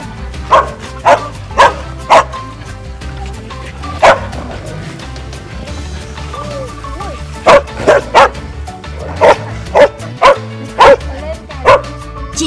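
Several sharp dog barks come in quick bursts of three or four, pausing between groups, loud and close over a low background murmur.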